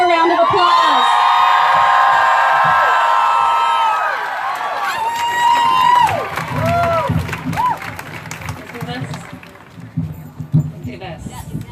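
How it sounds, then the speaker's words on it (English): Outdoor crowd at a reproductive freedom march in Alabama breaks into loud cheering, whoops and applause, then the roar thins into scattered clapping, shouts and nearby chatter. "Please give her a round of applause."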